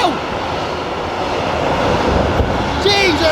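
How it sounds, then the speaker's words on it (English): A long train rushes past at full speed close by, a loud continuous roar and rattle of wagons that holds steady throughout, with a brief squeal near the end. "The train coming full speed, mate."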